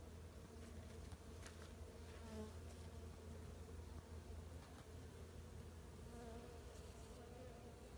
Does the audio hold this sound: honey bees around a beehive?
yes